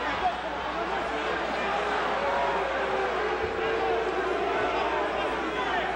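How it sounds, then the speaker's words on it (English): A restless crowd at a Mike Tyson versus Jesse Ferguson boxing match fills the hall with a steady, dense roar and murmur, continuous and unbroken, with no single voice standing out. "Crowd beginning to get restless."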